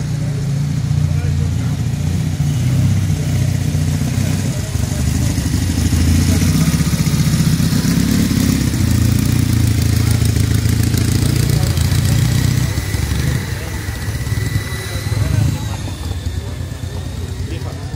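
A vintage pre-1945 BMW motorcycle, the first one brought to Spain, runs steadily at a veteran motorcycle gathering in Hoya de Huesca, its low engine rumble continuous and close, with voices talking over it.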